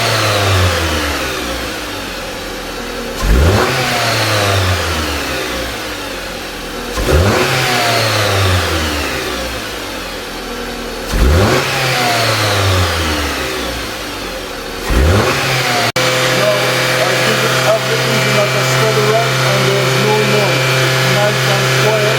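A Jeep Compass engine with a slight rattling noise at idle is revved four times in a row, each rev rising sharply then falling back, close and loud, before settling into a steady idle hum.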